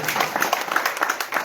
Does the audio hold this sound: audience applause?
yes